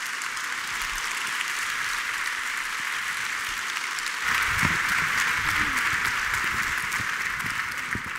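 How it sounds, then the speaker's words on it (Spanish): Audience applause fills a gala hall in a steady, dense wash of clapping that swells louder about halfway through and carries on to the end, with a voice faintly mixed in. "Os pido un aplauso para recibirles."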